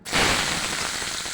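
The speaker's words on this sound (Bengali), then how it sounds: "এখন ওই তেলের ভিতর পেঁয়াজ মরিচ দেব" Onions and chilies dropped into hot oil, a sudden loud, steady frying sizzle that stays close and dense throughout, with no voices.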